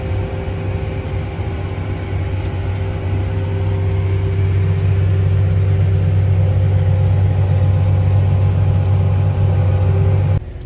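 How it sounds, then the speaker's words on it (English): Tractors driving and dumping corn silage onto a pile during Minnesota harvest, heard as a loud, steady, close engine drone with a constant low hum that holds unbroken throughout, no voices. "these tractors are coming up and driving and dumping along the way"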